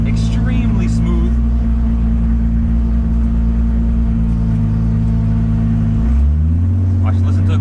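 A Toyota Supra fitted with a full exhaust pulls hard, its loud droning exhaust note holding steady tones before dropping and shifting near the end as it changes gear.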